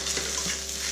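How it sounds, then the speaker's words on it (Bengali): Taro (kochur mukhi) frying with spices in a pan over low heat, a brief steady sizzle with faint stirring. "এই কচুরমুখী ভালো করে এরকম করে ভেজে নিতে হবে 1 থেকে 2 মিনিট"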